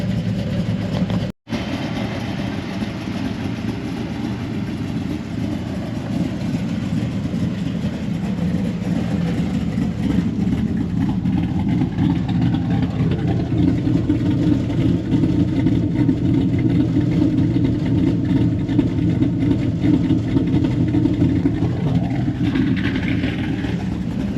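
A vehicle nicknamed the Mongoose starts with a brief transient, then settles into a steady, loud low idle that runs on continuously with no talk.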